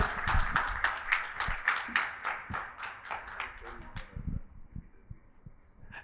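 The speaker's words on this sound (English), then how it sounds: "You could keep the claps a little louder." An audience claps through a panel event, a burst of rapid, dense applause that thins and tapers off over several seconds, moderately loud in a hall.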